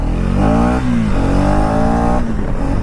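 A Kawasaki H2R motorcycle accelerates hard at full power, its engine climbing through rising revs with quick gear-shift dips. The sound is loud and close.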